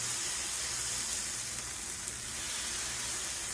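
Venison and sausage smashburger patties searing on a Blackstone griddle, giving off a steady, dense sizzle that hisses evenly throughout without pause.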